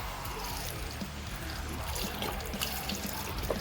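Chicken broth poured into a pot for an Instant Pot chicken enchilada soup, a steady, continuous liquid pour and splash that runs unbroken at an even level throughout.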